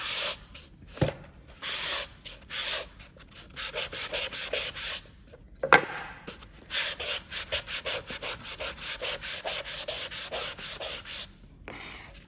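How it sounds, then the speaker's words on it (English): Repeated rhythmic scraping strokes of a sanding block on wood, brief pauses between bursts, close and fairly quiet. "I'm gonna sand it with my sanding block, and that can just be easily done by dragging it"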